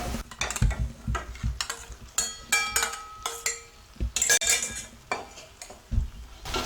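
Sautéed brinjal is spooned into a pan of cooked-down masala for a gravy, producing irregular close clinks, knocks and scrapes of a metal spoon against the pan over a light sizzle.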